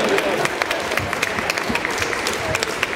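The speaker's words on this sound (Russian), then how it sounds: "Оцените аплодисментами этот танец, уважаемые друзья." Audience applause follows a ballroom dance performance, a dense, even patter of many hands with sharp individual claps standing out, moderately loud and continuous.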